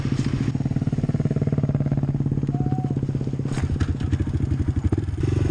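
A small motorcycle idles with a steady, rapid low putter, put in gear with the kickstand still down and stalling near the end; the engine is close and loud throughout with no talk.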